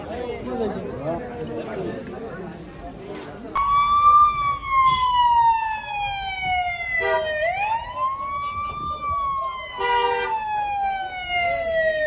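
A siren-style horn blares from a vehicle on the road in traffic. It enters loudly after a few seconds of voices and background chatter, then wails in long, falling and rising sweeps, close to the microphone.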